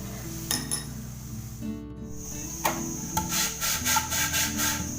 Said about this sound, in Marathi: हे बघा, हे भांडं मी आता घासते